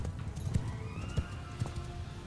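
Horses of horse archers galloping in Mount & Blade II: Bannerlord, a quick series of hoof thuds at close range with a faint whinny-like tone behind them.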